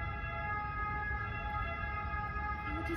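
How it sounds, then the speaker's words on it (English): Emergency siren sounding outside during an indoor yoga session, heard as a steady, muffled tonal wail at moderate distance over low background rumble, with no talking. "Sorry about the siren."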